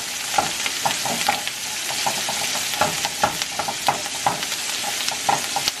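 Steak sizzles loudly in a hot pan alongside asparagus being turned, a dense crackling hiss with frequent scraping stirs and pops throughout, no talking.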